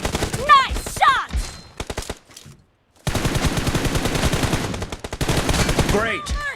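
Gunfire from the mobile game PUBG Mobile, with rapid bursts of automatic shots, a short silent gap, then a dense sustained volley, mixed with game effects.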